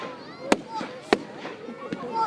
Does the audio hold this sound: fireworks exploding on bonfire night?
yes